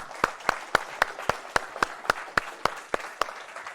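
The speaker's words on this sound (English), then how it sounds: "we do give them a big hand of applause" Audience clapping in an auditorium after a presentation comes through as a steady, evenly spaced run of sharp individual claps, fairly quiet and sparse.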